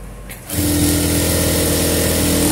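A sewing machine stitches the hem of a large XXL umbrella-style frock, a steady loud whirring run that starts after a brief quiet lead-in and continues evenly to the end.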